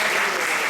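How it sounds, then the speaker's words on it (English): Audience at a temple festival gathering clapping together in a dense, loud, continuous burst of applause, very brief and close. "Let's give a round of applause for all the devotees."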